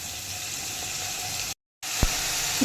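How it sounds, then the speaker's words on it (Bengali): Onion paste frying in hot oil for a Bengali prawn malai curry gives a steady, close sizzle that cuts out for a moment, then resumes with a small clatter. "পেঁয়াজটা দিয়ে খানিকক্ষণ ভাজা ভাজা করে নিতে হবে।"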